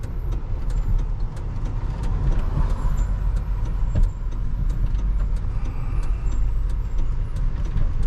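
A truck works a DIY driveway road site with air brakes, giving a continuous loud engine rumble and low drone. Sharp hissy clicks and bursts cut through now and then with no talking.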